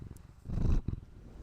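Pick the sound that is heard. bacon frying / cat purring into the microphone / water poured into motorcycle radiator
cat purring into the microphone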